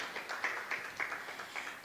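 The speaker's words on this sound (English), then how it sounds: "he deserves a big round of applause" A crowd at a business and religion summit applauding, a faint, even patter of many clapping hands with a few sharper claps standing out, no voices over it.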